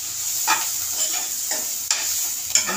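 Dried prawns being dry-roasted in a pan, with steady faint sizzling and a few distinct scraping stirs of a spatula against the pan at irregular intervals, close and fairly loud, no talking.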